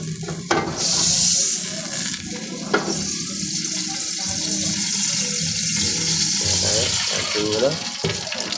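Kimchi sautéing in hot canola oil in a pan, a steady loud sizzle and hiss running throughout with occasional clinks and scrapes.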